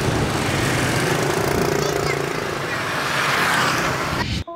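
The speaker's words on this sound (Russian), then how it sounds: "Главный звук Ханоя. Звук ревущих мопедов." Roaring mopeds fill a busy Hanoi street, a continuous dense drone of small engines passing close by, loud and unbroken until it cuts off abruptly.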